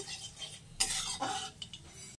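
Nigella seeds and dried chillies are stirred in mustard oil in a wok, with a brief, close scrape and clatter of a utensil and a soft crackle that ends abruptly.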